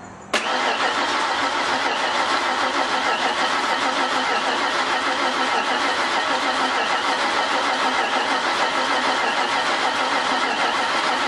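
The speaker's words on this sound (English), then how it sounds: "So I'm just going to crank it over for right now." A 1991 Ford Crown Victoria engine cranking on its first start-up attempt, with the ignition coil disconnected, producing a loud, continuous, steady churning crank that runs unbroken for about eleven seconds, close up.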